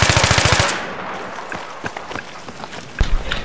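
Rapid burst of automatic gunfire in a 5v5 multiplayer shooter match, loud and close at the start, then scattered fainter shots and footsteps-like thuds, with a sharp report near the end.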